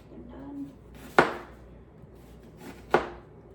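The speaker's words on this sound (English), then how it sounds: "let's cut this onion before I cry" A knife chopping an onion on a board gives two sharp, isolated cuts about two seconds apart, close by over a quiet room with faint background murmur.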